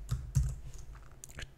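Keystrokes on a computer keyboard while writing Linux pipe code, a few irregular taps, close and fairly soft, with two firmer presses early on.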